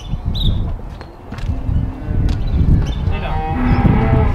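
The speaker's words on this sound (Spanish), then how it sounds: "Ya tenemos a la vaca." A Tudanca cow lowing in the open, long loud moos repeated a few times close by, with faint footsteps and rustling between calls.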